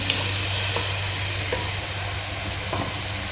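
Shrimp fry in a pan with pepper, giving a steady, loud, close sizzle and hiss, with a few soft stirring scrapes at intervals and no talking.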